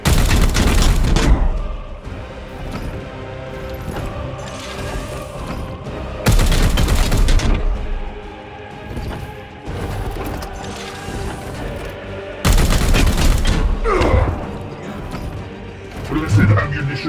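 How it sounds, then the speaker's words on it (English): Gunfire in Warhammer 40,000: Chaos Gate - Daemonhunters, with loud bursts of heavy firing that recur in blocks alongside mechanical clanks, and a voice speaking between the volleys. "Firing on target."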